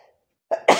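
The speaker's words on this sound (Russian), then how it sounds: "Стоял на улице, от этого вот это я чихаю." A single close sneeze set off by dust from a dusty potted plant: a short intake followed by a loud, sharp burst, alone in an otherwise quiet room.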